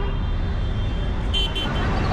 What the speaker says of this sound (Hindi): अभी वो ट्रैफिक हो गई है